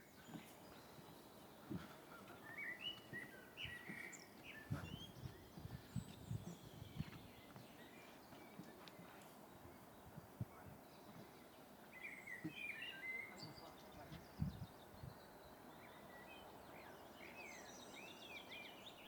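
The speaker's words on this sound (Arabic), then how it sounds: "بس اسمع أصوات العصافير." Small birds chirp and tweet in scattered bursts over a quiet outdoor background in Finland with faint rustling, the calls light and somewhat distant.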